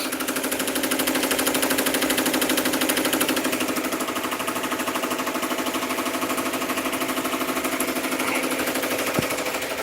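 Embroidery machine stitching a patch, a loud, steady, rapid needle hammering that runs unbroken and close up, with one sharp click near the end as it trims.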